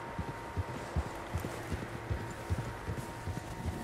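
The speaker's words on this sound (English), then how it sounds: "Horses, quite a few of them." Several horses' hooves clip-clop at a steady walking rhythm in the video game Red Dead Redemption 2, moderately near over a soft outdoor ambience, with no talking.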